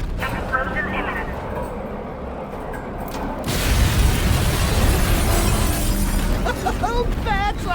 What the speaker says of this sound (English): Warning, plant integrity critical. Explosion imminent.